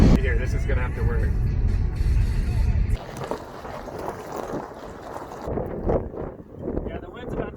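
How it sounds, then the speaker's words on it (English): Wind roars and buffets the microphone outdoors along a rural back road, a loud broadband rush that is strongest at first and then eases into gustier bursts, with people talking over it. "the wind's about to take my hat off"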